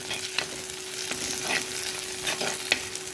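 Onion, ginger and curry leaves sautéing in a pan: a continuous close sizzle with soft scraping stirs and small crackles scattered throughout, no voices.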